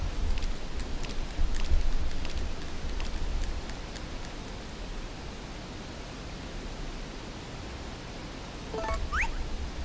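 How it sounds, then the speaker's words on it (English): Steady rain falls throughout in a video game, a dense even hiss of drops with slight swells in intensity and a faint high chirp near the end. "Any idea how long it's been raining?"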